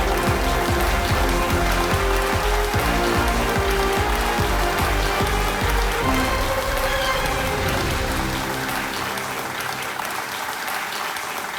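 Loud, sustained studio audience applause on the KBC game show, dense clapping that holds steady for several seconds before thinning and fading out at the end.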